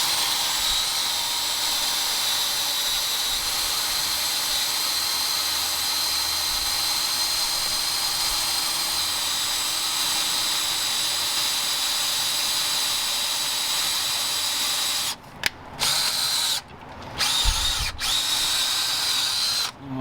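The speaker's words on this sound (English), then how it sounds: "I lube the bit again, and I'm going back in for my second drill." Power drill boring out a head bolt thread in the block of a 2003 Toyota Highlander 2.4L engine with a jig block fitted, a loud steady whine running for about fifteen seconds before breaking into short stop-start bursts near the end.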